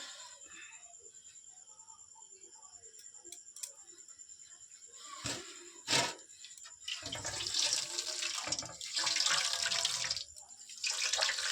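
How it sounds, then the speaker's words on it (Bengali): Water squeezed from cooked pumpkin being strained through a clean cotton cloth in a village kitchen, starting quiet with faint ticks and a couple of knocks, then swelling into a steady close trickling and splashing pour. "এই জলটা আমি পরিষ্কার একটা সুতির ন্যাকড়ায় ছেঁকে নেব"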